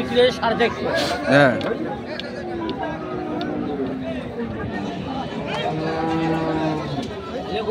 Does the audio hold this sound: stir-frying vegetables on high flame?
no